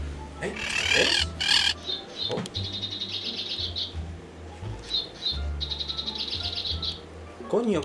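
A pet parrot in a home kitchen gives loud, close, repeated shrill whistling calls in bursts. Someone talks over and between them.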